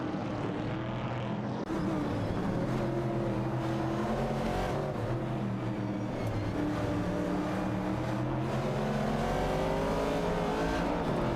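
A race car drives at speed around a track in an AI racing event. Its engine drones loud and steady, and the pitch rises and falls as it accelerates and eases off. There are no voices.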